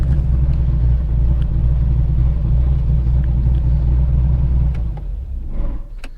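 A manual car's engine held at higher revs while pulling away up an incline, a loud steady low rumble close by that eases slightly near the end.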